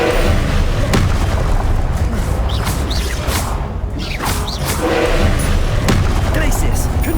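Repeated booming blasts from Confringo fire spells in Hogwarts Legacy combat, loud and dense with several impacts over a few seconds, mixed with clashing combat noise.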